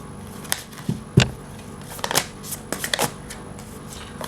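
Tarot cards are shuffled by hand, giving a scattered series of soft flicks, riffles and papery slaps close by, irregular and fairly quiet.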